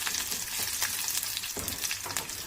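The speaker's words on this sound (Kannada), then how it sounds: "ಬೆಳ್ಳುಳ್ಳಿ ಹಾಕಿ ಒಂದು ಸ್ವಲ್ಪ ಫ್ರೈ ಮಾಡೋಣ." Garlic sizzles and fries steadily in hot oil with fenugreek and curry leaves for a fish curry, a continuous close crackle with occasional stirring scrapes and no voices.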